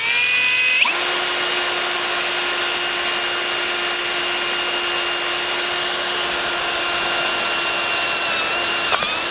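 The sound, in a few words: drilling the shear line of a Kwikset 660 deadbolt lock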